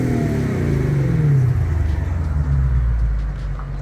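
BMW E38 740il with a full stainless exhaust system, a deep engine rumble under acceleration, loud and close, its pitch sweeping steadily as the car pulls for several seconds.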